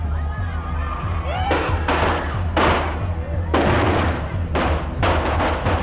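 Chinese firecrackers go off at a presidential campaign event, several sharp, loud bangs at irregular intervals that sound like gunshots, over a low crowd murmur and talking.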